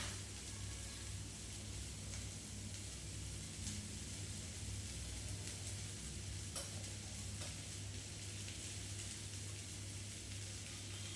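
Onions sizzle in a pan, a steady dense crackle of frying that stays even and close throughout, with occasional stirring and no talking.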